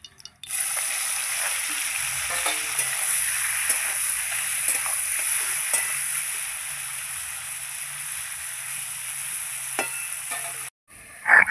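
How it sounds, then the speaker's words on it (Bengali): Fish rubbed with salt and turmeric fry together in hot oil for a Bengali malai curry. A loud, continuous hiss and crackle holds steady, then cuts off abruptly near the end. "সব মাছ একসাথে ভেজে নেব।"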